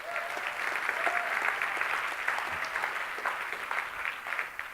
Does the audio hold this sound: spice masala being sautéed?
no